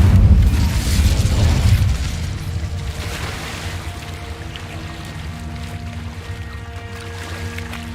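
A fiery Incendio spell from the Hogwarts Legacy video game, opening with a loud, deep whooshing burst that settles into a sustained roaring rumble with steady tonal hum layered over it.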